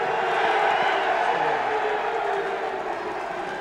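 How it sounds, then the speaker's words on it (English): Loud, sustained crowd cheering and shouting for Margaret Thatcher outside Downing Street, a continuous roar with no breaks. "Some very, very loud cheers, a lot of enthusiasm."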